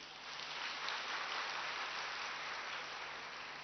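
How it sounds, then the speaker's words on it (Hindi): An audience at a spiritual gathering gives steady, even applause, a soft wash of many hands clapping at a distance with no talking over it. "तालियां तो बजाओ भाई"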